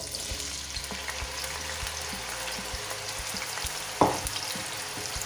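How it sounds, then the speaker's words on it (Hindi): Pieces of taro root (arvi) frying in hot oil, a steady close bubbling hiss with light clicks of stirring and one sharper knock near the end, no voices. "इसको अच्छे से 2 से 3 मिनट फ्राई करेंगे।"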